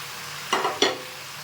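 New potatoes drop into a pan of chicken in thin gravy for a winter chicken and potato dish, giving two quick bursts of sizzle and stirring close by over a low background hiss.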